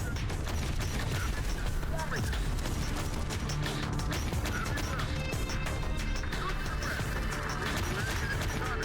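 Autocannons fire in the Terminator: Dark Fate Defiance strategy game, with a dense, continuous clatter of rapid shots layered with crashes and mechanical noise, loud and unbroken throughout, with no speech.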